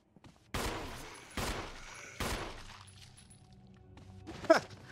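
Three loud gunshots ring out in Resident Evil, evenly spaced about a second apart, each with a short decaying tail, followed by a sharper impact near the end.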